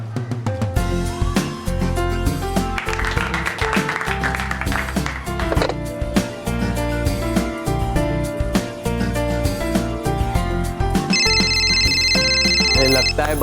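A telephone rings with a bright, repeating electronic tone inside a busy music-heavy mix from a children's superhero series, loud and near.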